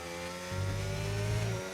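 A racing car engine in a video game drones steadily during Italian Grand Prix qualifying, then revs higher and holds a strained, screeching tone before dropping back, with a synthetic, game-like sound.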